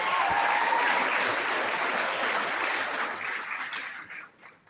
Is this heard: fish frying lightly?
no